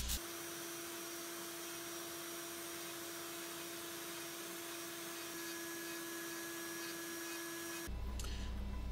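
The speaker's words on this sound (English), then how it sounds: "I sand the head and body smooth before I start to shape the eye sockets." A power carving tool whines steadily while sanding a wooden chickadee carving, a continuous high-pitched motor tone close up that cuts off abruptly near the end.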